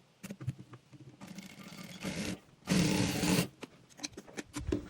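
A sewing machine stitching a model frock runs in two short bursts separated by a brief pause, surrounded by small clicks and handling taps of the fabric and machine.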